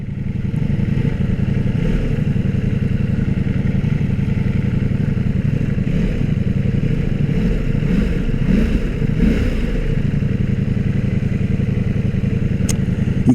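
A motorcycle rides through Brighton's streets in summer, its engine a steady close drone with rumbling wind buffeting and a few light clatters, no speech.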